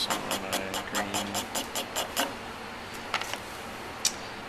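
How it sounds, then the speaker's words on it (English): Pastels scratching over paper while green is being colored in, a run of quick rhythmic strokes that stop and give way to a few scattered scrapes, faint and close with no talking. "If you don't like that sound, good luck using pastels."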